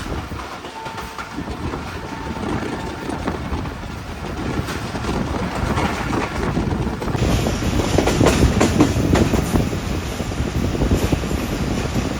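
Allama Iqbal Express train running along the track near Lahore, a steady loud rumble with clattering wheels and rushing wind, growing heavier partway through, with no talking.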